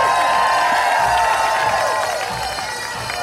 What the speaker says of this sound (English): Cheer him on, everybody.